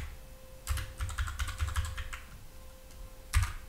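Keys clack quickly on a computer keyboard while Python code for a Discord bot is typed, a close burst of rapid keystrokes followed by a pause and one final tap, with no talking.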